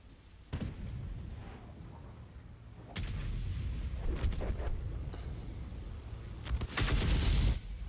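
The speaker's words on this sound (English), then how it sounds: "we've been damaged fairly severely by incoming fire" Incoming tank fire in the game World of Tanks Frontlines, heavy booming cannon blasts and rumbling explosions arriving in bursts, loud and close, with a sustained roar of battle between the hits.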